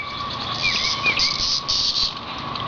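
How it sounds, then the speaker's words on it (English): Cicadas and other insects outdoors give a steady, loud, high-pitched drone with a constant buzzing tone, slight swells and a few faint chirps over it. "Got yellow jackets. And cicadas. And all kinds of stuff. All kinds of bugs out here."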